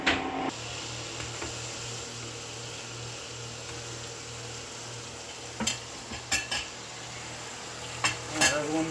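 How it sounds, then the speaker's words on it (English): Grits slow-cooking in a pot are stirred, making a soft continuous bubbling scrape, with a few sharp metallic clinks of a spoon against the pot near the end. "I throw everything in there and just let it slow cook, and I just keep a stir"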